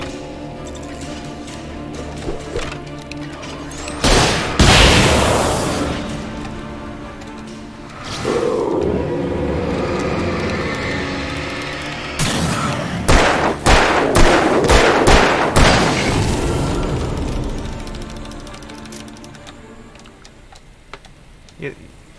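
Gunfire in the game Alan Wake Remastered: several sharp, loud shots ring out, first a pair and then a rapid volley, separated by stretches of rumbling ambience and game noise.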